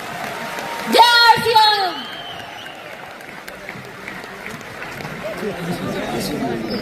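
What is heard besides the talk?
seminar audience clapping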